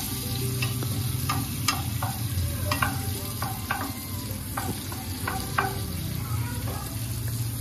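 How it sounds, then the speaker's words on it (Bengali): Bay leaf stirred in hot oil in a pan, a steady sizzle and frying hiss with repeated scraping strokes of the spoon running throughout, close and moderately loud, with no talking. "তেজপাতা দিয়ে একটু হালকা করে আপনাদেরকে নাড়তে হবে"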